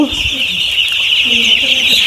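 Broiler chickens cluck and chatter close by in a shed of about 1,800 birds, over a constant high-pitched buzz, with short bird calls scattered throughout.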